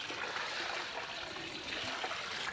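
Fluke Solve treatment solution, mixed in about 10 litres of water, is poured into a koi pond, giving a steady, continuous splashing pour with no break.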